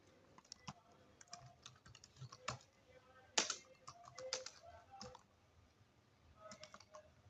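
Keys of a computer keyboard click while text goes into an MS Word document, in irregular close bursts of keystrokes with a few louder taps and brief pauses between them.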